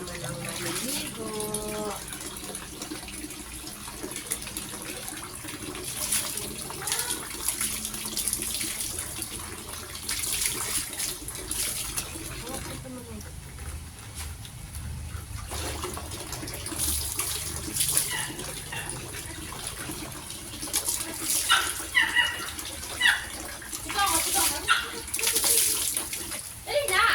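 Water runs and splashes steadily while Mero the dog is bathed, a continuous tap-like gush mixed with sloshing, with people talking over it throughout.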